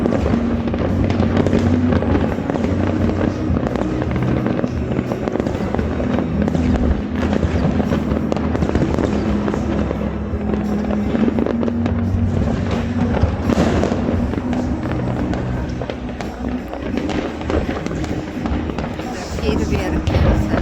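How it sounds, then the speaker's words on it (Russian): New Year fireworks bursting over Adler, a dense unbroken crackle and pop of many distant explosions, with people talking excitedly over the barrage. "Фейерверки."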